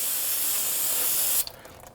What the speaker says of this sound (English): When you use some solvent, spray this down